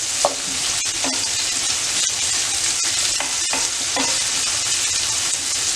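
Tomatoes fry in a pan with a steady, loud sizzle, broken now and then by soft scrapes and taps as they are stirred. No one speaks.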